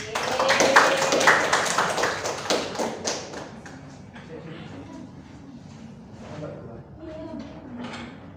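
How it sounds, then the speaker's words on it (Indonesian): A classroom applauding during a microteaching session, dense clapping that is loud at first and then thins into scattered taps, with voices talking over it. "Silakan tepuk tangan."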